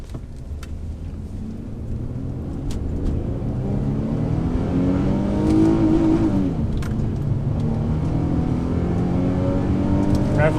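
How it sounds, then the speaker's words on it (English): An Infiniti G35 engine in first gear, manual mode, on a mountain highway drive, revs up steadily toward the rev limiter, a loud continuous rising roar that peaks and dips mid-clip before holding high, with no speech. "you can't hit the rev limiter in manual mode"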